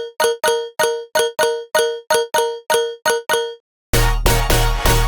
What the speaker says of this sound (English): the other one a bell sound to add a nice acoustic touch to the stabs